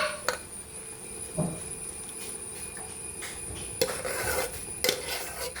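Potatoes go into onion masala in a pan, with scattered metallic clinks and scrapes of a spoon against cookware over a faint background, a few sharper knocks standing out.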